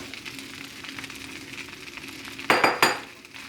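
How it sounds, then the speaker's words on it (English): Bok choy hits a shrimp noodle stir-fry in a hot pan, the low background sizzle jumping into two loud bursts of crackling near the end, with light utensil clinks. "now I'm gonna add my bok choy"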